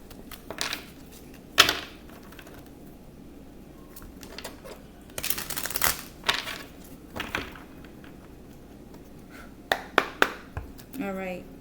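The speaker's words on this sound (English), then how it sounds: "I'm going to shuffle, because I just always feel like it's necessary that I shuffle the cards." Tarot cards shuffled by hand in a quiet room, a run of soft riffling bursts and sharp card flicks scattered through the stretch, with the heaviest cluster in the middle and a few crisp snaps near the end.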